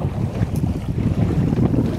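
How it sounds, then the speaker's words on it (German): Sailboat under way in light wind, around force 3, on a northward passage toward Haparanda, Finland, with steady wind rush and water noise throughout, no voices. "Wir können segeln."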